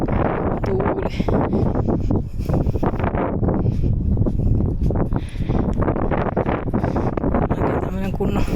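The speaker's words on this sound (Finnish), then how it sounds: "Tuuli." Strong wind buffets the microphone outdoors on a walking trail, a loud continuous gusty roar throughout the clip.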